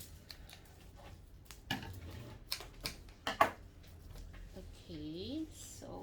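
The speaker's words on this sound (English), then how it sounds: "I need to cut them off to smaller ones." Fresh flower stems being snipped into shorter pieces for a small jar arrangement, several crisp scissor cuts spaced irregularly in a quiet room, with faint rustling and a brief high tonal sound near the end.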